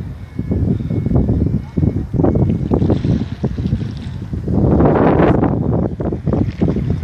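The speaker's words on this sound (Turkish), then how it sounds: "Sanki motoru çalıştı gibi ama bilmiyorum artık gider mi gitmez mi." A cruise ship's engine rumbles into life, a steady low drone with wind buffeting the microphone, swelling louder toward the end while someone speaks Turkish over it.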